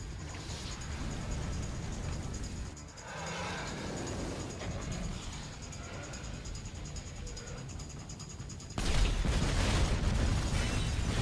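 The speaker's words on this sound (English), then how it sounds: "Slow-mo walkouts with fire and explosions." Fire and explosions at a farmhouse in the GTA 5 game, a dense roaring rumble with bursts and crackles that swells louder and brighter near the end.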